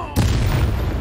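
A heavy booming blast from the Bombarda spell in the Hogwarts Legacy video game, a single loud close explosion that hits suddenly and rumbles on with crackling debris.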